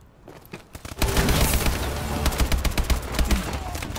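Rapid gunfire in the Call of Duty video game, dense bursts of automatic shots crackling continuously after a quieter opening, loud and close.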